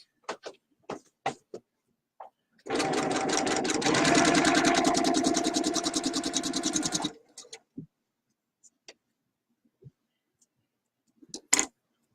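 A sewing machine runs in one continuous rhythmic burst of rapid stitching for about four seconds, surrounded by scattered small clicks and taps before and after.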